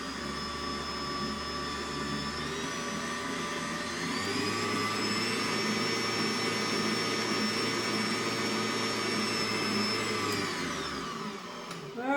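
An electric mixer whirs steadily while beating cocoa powder into rich chocolate brownie batter, a loud close motor drone that steps up in speed partway through and winds down at the end, with no talk over it.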